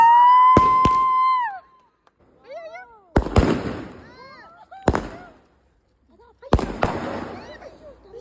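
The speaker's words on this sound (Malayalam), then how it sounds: "നേരെ മേലെ പോയി പൊട്ടുന്ന പടക്കം പൊട്ടിക്കാൻ വേണ്ടിയിട്ട്" Aerial firecrackers shoot up and burst during a Diwali celebration. Four sharp, loud bangs are spaced a second or two apart, with rising whistles and voices around them and quiet gaps between.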